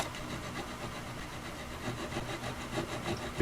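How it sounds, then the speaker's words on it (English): A chisel scrapes old glue off a broken antique wooden table leg under repair, giving steady rough rasping strokes that run continuously at close range, with a few louder scrapes near the end. "just take you some kind of chisel and just start scraping the old glue off"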